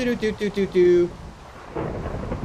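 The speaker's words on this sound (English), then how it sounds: "And the rain is just really bad." Rain and distant rumbling thunder from the video game Minecraft rise as a soft, steady hiss after a short run of chiming game tones at the start.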